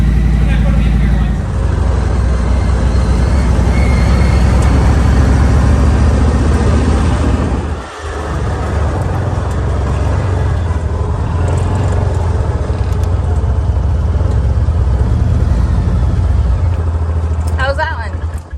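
A motorcycle that has sat unused for a few months starts up in a garage and idles to warm up, giving a loud, steady low rumble that runs for the whole stretch with one brief dip, while people talk over it.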